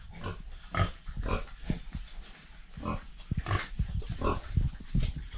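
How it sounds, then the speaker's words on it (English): Pigs on a farm in a village near Tunja, Colombia, grunting in a run of short, close, throaty snorts and grunts, fairly loud and irregular, with no talking. "We have a pig over here,"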